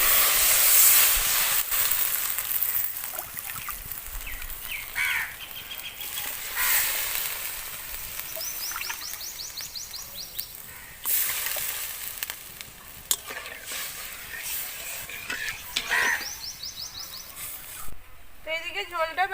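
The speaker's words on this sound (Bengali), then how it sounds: "এইদিকে ঝোলটা বেশ অনেকক্ষণ ফুটে উঠেছে" A tomato-based broth for chicken momo soup simmers with a steady hiss and bubbling sizzle, punctuated by clicks and scrapes of cooking utensils, close and moderately loud.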